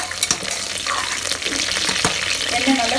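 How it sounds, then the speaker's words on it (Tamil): Hot oil sizzles and crackles steadily in a pan while mushroom biryani is being cooked, a close, continuous frying hiss with some stirring clatter. "எண்ணெய் நல்லா கொதிக்க ஆரம்பிச்சிருச்சு."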